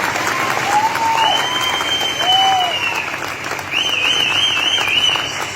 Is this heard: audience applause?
yes